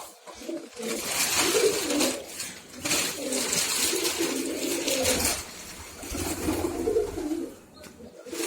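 Pigeons cooing at a nest where a hen has laid two eggs and chicks are present, repeated low throaty coos in rolling phrases, close and clear over faint background noise.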